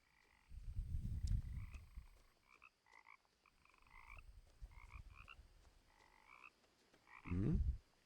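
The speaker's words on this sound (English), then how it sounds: "Lots of froggies." Frogs in a forest in What Remains of Edith Finch croak in short bursts over low rumbling ambience, with repeated calls overlapping and a louder burst near the end.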